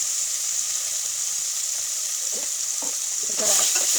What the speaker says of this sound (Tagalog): Igisa ang sibuyas at kamatis.